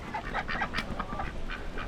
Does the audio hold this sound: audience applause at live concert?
no